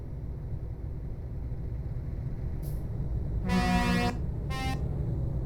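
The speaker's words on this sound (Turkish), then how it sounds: "Ne basıyorsunuz lan kornaya?" In Euro Truck Simulator 2 multiplayer convoy driving, a brief faint toot comes first, then a loud sustained truck air horn blast of about half a second, then a second shorter honk over a low engine rumble.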